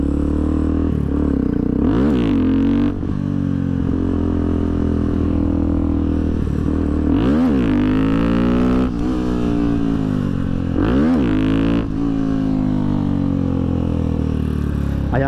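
Motorcycle revved hard for wheelies, repeated loud rising and falling engine roars in bursts every few seconds over a constant low drone, close and powerful.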